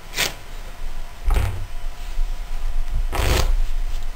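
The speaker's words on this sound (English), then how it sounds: "let me just grab the card." A deck of playing cards is being handled and shuffled at close range in three short riffling bursts, with quieter pauses between them.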